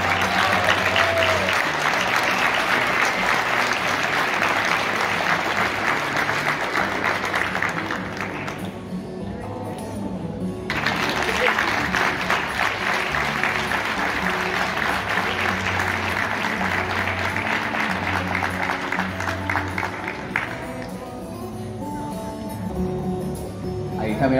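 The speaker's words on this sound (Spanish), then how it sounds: "acompañamos con el aplauso." Audience applause at a municipal workers' recognition ceremony, a long steady round of clapping that briefly drops away twice before resuming, with a voice faintly audible beneath.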